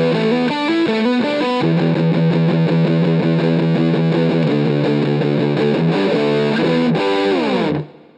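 An electric guitar with distortion and chorus effects plays a fast, continuous riff of rapid notes, loud and close with no talk, then stops abruptly at the end.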